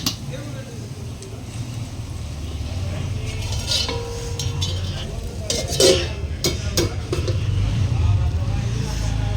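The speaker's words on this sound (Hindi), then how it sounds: "इसमें थोड़ा तेल ज़्यादा है तो इस तरीके से हम चारों तरफ से भुजिया को कर देते हैं" Masala bhujia (spiced vegetable stir-fry) stirred and fried in extra oil in a pan at a home kitchen, with a steady close sizzle and occasional scraping clinks of the spoon against the pan.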